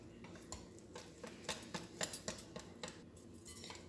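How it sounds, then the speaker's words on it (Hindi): A whisk taps and scrapes rhythmically against a bowl while semolina cake batter is beaten, making faint repeated metallic clicks at a steady pace and fairly quiet throughout. "इसी तरह इसे फेंटते जाएंगे, 4-5 मिनट तक इसे तकरीबन आपको फेंटने"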